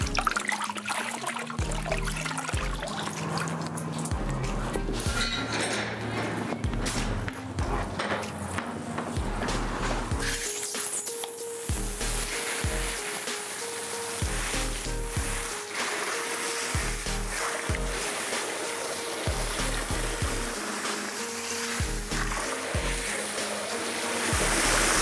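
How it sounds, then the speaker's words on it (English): Water spray from a wash wand rinsing soap out of a shearling girth, a steady loud broadband hiss and splash running continuously, with changing flow and no talk. "I'm just gonna take the easy wash wand and rinse out the soap"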